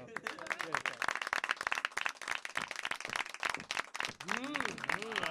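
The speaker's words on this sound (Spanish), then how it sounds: "Demos un fuerte aplauso para los méritos académicos de Leo" Steady clapping from a group at a school academic awards recognition fills the whole stretch, with a voice speaking over the applause.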